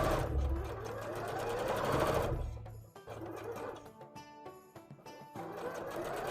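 A sewing machine stitches a plushie in close, running bursts, a long continuous run and then shorter stop-start spurts with pauses in between.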